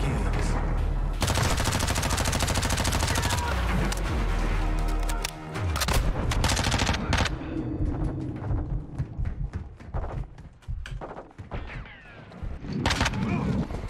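Rapid bursts of gunfire in Call of Duty: Modern Warfare 2 (2022) crackle continuously, then give way to scattered shots, explosions and mechanical clatter.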